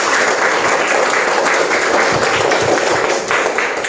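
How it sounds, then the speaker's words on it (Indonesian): Fifth-grade pupils clap together in a classroom, a dense, loud burst of many hands slapping close by. The clapping runs continuously with scattered sharper taps and a few dull thumps. "Tepuk tangan untuk kita semua."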